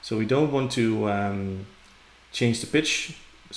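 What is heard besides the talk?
None of the usual background noises is heard.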